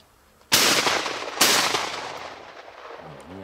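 Two loud, close shotgun blasts about a second apart while hunting wood pigeon, each sharp crack followed by a rolling echo that fades out slowly.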